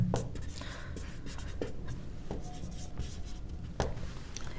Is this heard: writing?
yes